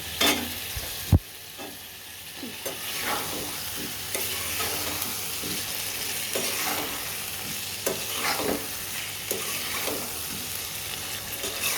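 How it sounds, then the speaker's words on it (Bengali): Potatoes and eggplant sizzle steadily in a pan of cooked-down spice paste, with a sharp clank at the start and repeated scraping stirs of a spatula over the constant frying hiss; no voices. "এখন আমি এখানে আলু বেগুন দিয়ে দেবো। এটাকে ভালো করে কষিয়ে নেব।"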